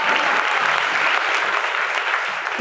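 A church congregation claps together in praise of the Holy Spirit, dense sustained applause filling the room with no pause.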